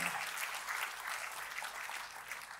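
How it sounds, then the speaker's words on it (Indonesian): A church congregation breaks into applause for God during a sermon, a dense, steady wash of many hands clapping at once, fairly distant and even throughout. "kita kasih tepuk tangan yang paling meriah buat Tuhan"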